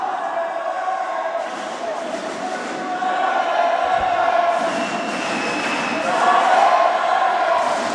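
A crowd cheers and roars steadily at a kickboxing final, a dense, continuous wall of voices that swells louder toward the end.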